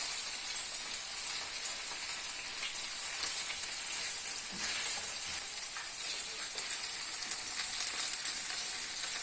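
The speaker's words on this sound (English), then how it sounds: "we'll just continue to stir the mixture of tomatoes, onions, and sausages" Tomatoes, onions and sausages fry in a pan while being stirred, a continuous fine sizzle like light rain, steady and moderately quiet.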